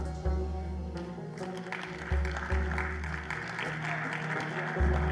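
An audience at an Urdu literary gathering at Moscow University claps as a poet is welcomed to the stage, steady applause over a low droning background hum with brief louder swells.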